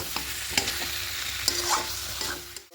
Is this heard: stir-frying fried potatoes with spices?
yes